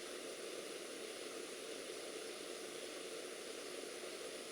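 A magnetically levitated quarter-inch shaft held by ring and cylinder magnets spins at several thousand RPM, producing a constant, faint high whine over broadband hiss.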